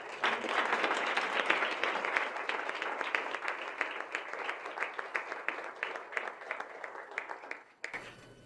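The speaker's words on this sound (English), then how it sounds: "Let's give all our winners one more round of applause" Steady applause from an awards ceremony crowd for the winners, dense clapping that thins slightly toward the end before stopping abruptly.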